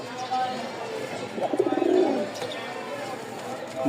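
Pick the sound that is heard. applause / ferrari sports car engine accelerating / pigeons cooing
pigeons cooing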